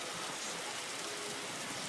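Steady rain falls in the Roblox game Grow a Garden, a dense even hiss of drops with no talk over it throughout.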